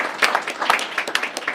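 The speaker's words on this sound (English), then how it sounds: "that deserves an applause" Short burst of applause from an audience at a Port Authority public board meeting, a dense patter of hand claps, moderately loud and close, lasting under two seconds.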